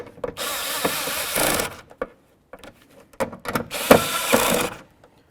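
Bolts are snugged up on the window regulator inside a 1997–2005 Lexus GS door, heard as two bursts of quick ratcheting tool clicks separated by brief pauses and light handling noises, close and moderately loud.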